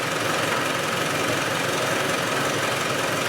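A steady mechanical clatter of an idling Spanish 110 engine running with its valve covers off, with a constant ticking rattle and low hum throughout, no voices.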